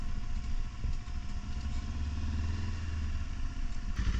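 A motorcycle engine idles near a historic fort, a steady low chugging putter that stays close and fairly loud for a few seconds with no talking.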